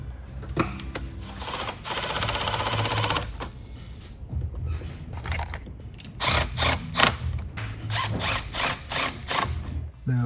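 A half-inch wrench ratchets and clicks in close, irregular bursts of rapid mechanical ticking while a van air conditioner unit is assembled, with short pauses between runs of clicks.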